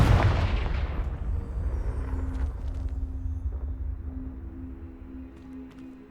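In Hogwarts Legacy, a Confringo spell explodes with a loud, deep boom at the start, then a rumbling tail that slowly fades over several seconds, with faint magical tones lingering beneath.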